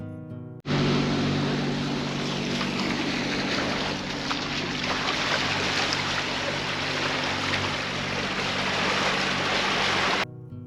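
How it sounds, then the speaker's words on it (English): A cruising sailboat motors along on one diesel engine with its sails up, a loud, steady wash of engine drone and rushing water that starts abruptly and runs unbroken, with no voices. "running one engine with the sails up was our only option"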